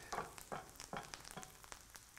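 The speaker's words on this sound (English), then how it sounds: "You hear that sizzle." Vegetables and parsley sizzle in a pan with a steady crackle, broken by several soft scraping stirs at a regular pace, moderately quiet and close by.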